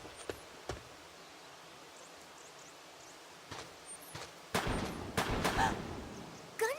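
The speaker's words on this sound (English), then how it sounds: "Gunshots!" Gunshots ring out in Xenosaga Episode III in the Old Forest on Miltia: scattered sharp cracks, then a denser cluster of shots partway through, over a faint ambient background with no speech.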